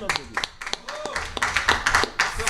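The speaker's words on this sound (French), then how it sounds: "On peut l'applaudir." Scattered clapping from a small group at a speedrunning event, brisk and uneven, mixed with lively voices and cheers over a steady background.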